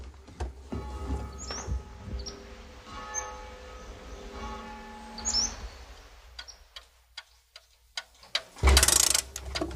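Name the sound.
clocks ticking in a clock shop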